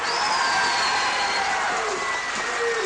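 Audience applause and cheering at a Telugu film audio release function, a dense steady wash of clapping and crowd noise with faint whoops, heard close and loud throughout.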